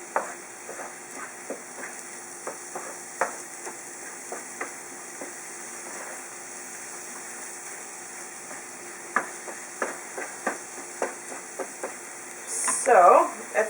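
Rice grains toasting with onions, garlic and celery in a paella pan give a faint, steady sizzle, broken by scattered light clicks and scrapes of stirring and a brief louder burst near the end.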